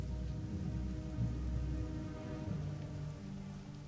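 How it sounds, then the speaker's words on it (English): Heavy rain falling steadily in the World of Warcraft game world, a dense continuous hiss and patter of drops on surfaces, loud and alone with no talk. "It's raining. It's raining a lot."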